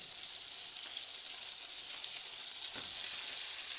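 Strips of bacon fry in a pan, giving a steady, even sizzling hiss that stays close and constant throughout, with no talking.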